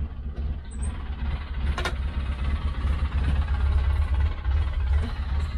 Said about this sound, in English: I drive in a six-wheeler